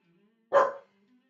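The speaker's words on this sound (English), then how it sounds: "I hope the dog is not too noisy" A single sharp bark from a dog indoors, one short close bark in otherwise near silence.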